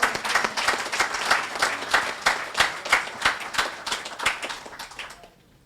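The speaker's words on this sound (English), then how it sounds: "give Him a round of applause" An audience at the opening of a hospital oncology unit applauds steadily, a dense wash of many hands clapping together that fades out near the end.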